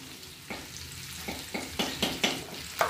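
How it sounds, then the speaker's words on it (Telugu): Baby potatoes frying in hot oil with curry leaves added, a steady close sizzle punctuated by a series of sharp scraping stirs of a spatula in the pan, roughly every half second. "ఇందులో ఇప్పుడు నేను కొంచెం కరివేపాకు వేస్తున్నాను."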